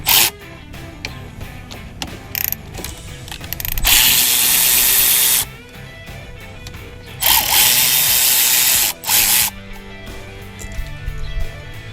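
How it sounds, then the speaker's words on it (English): Power tool whirring in short, loud bursts as 12mm caliper bolts come off the front brake of a 2021 Honda Pioneer 520 side-by-side, with several sustained runs between quieter handling noises. "Now I'm going to the 12mm and removing the caliper."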